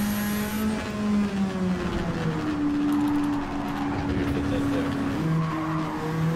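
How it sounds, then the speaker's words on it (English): Swapped and modded 1969 Nissan Fairlady Z 432 in a racing video game, engine droning and shifting pitch with tire squeal and scattered anti-lag pops, steady and fairly loud. "I hear a lot of anti-lag."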